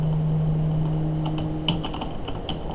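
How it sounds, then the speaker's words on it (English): Code is typed on a computer keyboard as a quick, uneven burst of close, crisp key clicks, starting midway after a few seconds of steady electrical hum. "And then we'll type the same thing"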